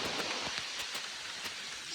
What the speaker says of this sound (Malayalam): മഴ തന്നെ